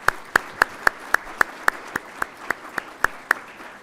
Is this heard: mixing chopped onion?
no